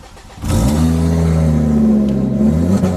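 A Ford car engine starts up after key programming, catching with a burst and then revving steadily and loudly at close range for a few seconds.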